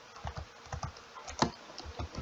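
Keystrokes on a computer keyboard entering a Linux Mint terminal command, a quiet irregular patter of separate clicks with one sharper tap near the middle, close and faint with no voices.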